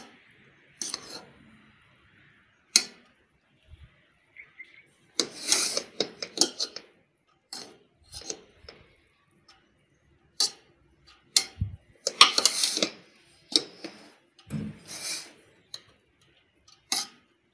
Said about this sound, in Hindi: अब हम आहिस्ता से चम्मच की मदद से हिलाना शुरू करेंगे, मिक्सअप करेंगे